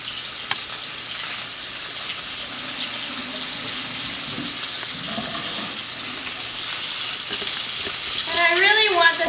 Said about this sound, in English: I'm going to put it in my hot saute pan. And you can hear that beautiful sizzle.